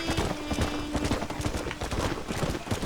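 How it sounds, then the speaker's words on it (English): Rapid, steady clip-clop of horse hooves galloping in the Red Dead Redemption video game on Xbox One, loud and close, with dense repeated hoof strikes running throughout. "there's my horse"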